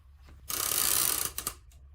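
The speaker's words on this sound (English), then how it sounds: "You get that click of the ratchet?" A ratchet strap clamped down on packaging for an ROI-E200 Series LED light gives a loud, ratcheting burst lasting under a second, then a few short trailing clicks, close to the microphone with no talking.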